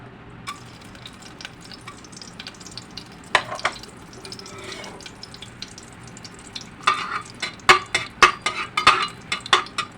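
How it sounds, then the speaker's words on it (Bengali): Whole spices going into hot oil in a pressure cooker for chicken stew, giving scattered sizzles and clinks of a metal spoon against the pot, growing busier and louder toward the end, with no talk. "বসিয়ে আমি তেল দিচ্ছি প্রেশার কুকারের মধ্যে।"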